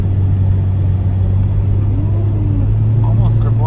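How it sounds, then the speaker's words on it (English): Small Jeep driving along winding, snaky Tennessee roads, with a steady low engine and road rumble filling the whole stretch and a faint voice briefly over it. "this is what this little Jeep was built for. Some of these snaky roads here in Tennessee, and it's sticking right with it"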